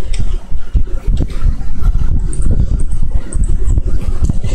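A car drives in the mobile game PUBG Mobile, giving a loud, steady engine rumble mixed with rushing, wind-like noise that runs without a break for several seconds.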